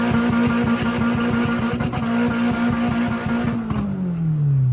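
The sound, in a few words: K24-engined car test run on the road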